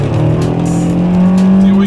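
A 2013 Nissan Sentra with a CVT revs hard near 6,500 RPM in sport mode during a 0-60 run in the rain, a steady loud droning engine whine heard from inside the car with voices over it.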